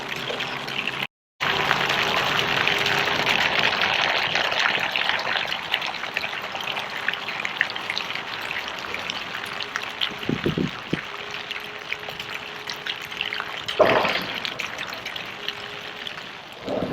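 Water rushes steadily through an RV water system being flushed, a continuous hissing gush with a short break near the start and a few knocks and thumps later.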